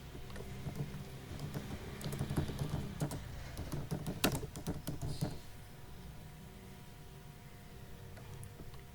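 Quick typing on a computer keyboard while entering a username on a website sign-up form, a dense run of close clicks that thins out toward the end with no voices.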